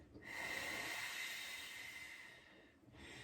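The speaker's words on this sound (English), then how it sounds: "So it's a slow, steady stream of air." A long, slow, steady exhalation blows at a small pom-pom, one soft breathy hiss lasting a couple of seconds, close and quiet, after a brief intake.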